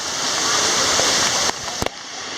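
A waterfall pours through a rock cave in a stream gorge, a loud, close, constant rush of water that drops away briefly near the end, with a few sharp knocks or splashes.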